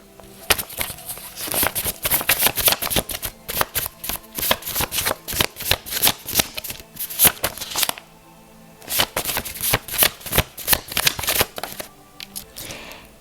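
Tarot cards being shuffled for a reading give close, crisp riffling bursts in a steady rhythm, one long run, a short pause near the middle, then more shuffling, with no talk.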